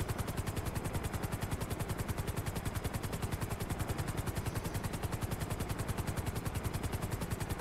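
A helicopter in Grand Theft Auto 5 flies along, its rotor beating in a fast, even thump that repeats steadily and quietly throughout, with no talk.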